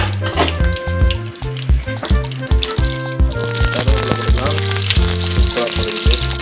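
Fennel seeds and cinnamon sizzle in hot oil in a pan, a steady loud crackling hiss that runs throughout, close up, with music playing over it.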